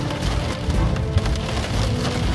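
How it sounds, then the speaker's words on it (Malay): Hailstones pelt a car, a dense, loud, continuous rattle of hard drumming impacts on the body and glass, with no talk. "Sekarang ni hujan ais tau."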